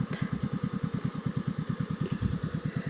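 A motorcycle engine chugs in a steady, rapid pulsing rhythm at close range, loud and continuous throughout while riding across a bridge in a rural province, with no talk over it.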